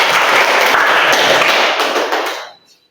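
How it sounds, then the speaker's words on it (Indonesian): An audience claps after a remark in a Christian faith discussion session, producing a dense, steady patter of many hands that tapers off and stops just before the end. "Oke, tepuk tangan."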